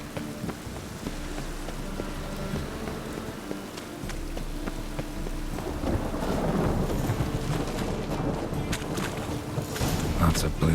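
Rain falls steadily with a low rumble of thunder in The Witcher 3: Wild Hunt on PS4, the downpour growing heavier and louder toward the end.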